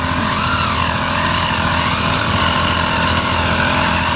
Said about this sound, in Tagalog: Tapos ngayon po, ayan na yung nag-grass cutter po niya.